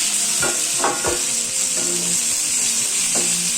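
Turkey berries, dried red chillies and garlic fry in hot oil, making a steady close sizzle broken by a few soft stirring scrapes. No one speaks.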